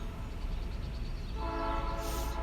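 A train rolls through a town, a low steady rumble of rail cars joined near the end by a sustained horn blast, heard at a moderate distance without talk.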